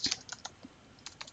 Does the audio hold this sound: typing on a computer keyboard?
yes